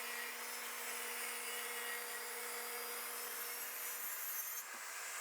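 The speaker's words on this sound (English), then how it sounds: "we're gonna put the edge of the ply against the rip fence, and then we're just gonna run this through" A table saw rips quarter-inch plywood guided along the rip fence: a continuous close whirring drone with a steady hiss of cutting that shifts slightly just before the end.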